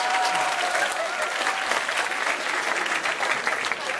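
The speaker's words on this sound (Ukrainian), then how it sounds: "оплески для нього, так." Steady applause from a crowd at a Taizé summer gathering's Ukrainian festival, many hands clapping in a continuous dense texture throughout, moderately loud with no break.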